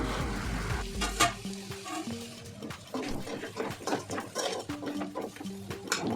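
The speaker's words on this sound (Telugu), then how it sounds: "ఇప్పుడు ఈ చికెన్ మొత్తాన్ని మంచిగా కలిపేసుకొని ఒక 2 మినిట్స్ మూత పెట్టి ఉడికించుకోవాలి ఆయిల్లో" Pieces of chicken for a spicy Sunday chicken fry, coated in garam masala, sizzle in hot oil as they are mixed in a pan, with soft clinks and scrapes of a utensil over a continuous fry.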